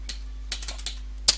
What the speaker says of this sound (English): I'm so lazy with this typing.